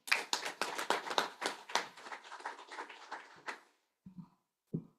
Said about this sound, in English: So a round of applause again for all of our speakers.